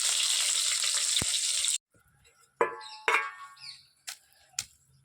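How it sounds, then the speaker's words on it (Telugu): Chopped onions and green chillies sizzle loudly in hot oil for a village-style sambar, a steady hiss that cuts off abruptly, followed by scattered clinks and scraping of stirring in the pan. "ఈ పచ్చిమిరపకాయలు ఈ ఉల్లిపాయ బాగా వేగాలి"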